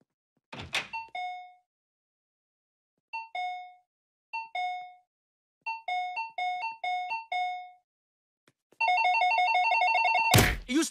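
A counter bell at a dry cleaner is rung again and again, bright metallic dings in quick uneven bursts, ending in a rapid continuous trill of rings, close and alone without talk.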